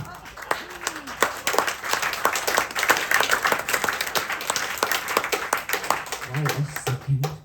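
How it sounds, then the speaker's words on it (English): An audience claps at a comedy show at the Newcastle Fringe, with dense, steady applause running throughout and a voice speaking over the clapping. "Wait a second. You're clapping."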